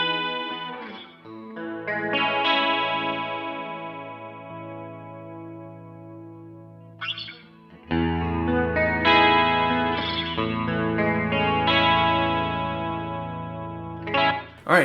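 Electric guitar played through an HX Stomp chorus effect with the mix set halfway, sustained shimmering chords ringing out in two phrases with a brief gap near the middle, no voices.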